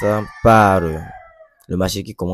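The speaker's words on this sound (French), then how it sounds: "excusez-moi pour le bruit des poules" Chickens cluck and a rooster crows nearby in loud, tonal calls with brief gaps between them.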